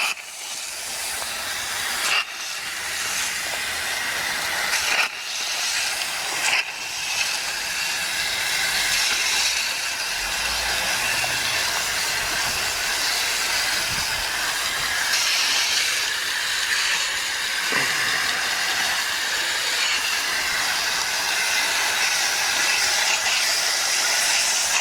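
Coil cleaner sprays in a steady, loud, continuous hiss onto a dirty Ruud AC condenser suffering low airflow, with a few brief knocks and clicks near the start.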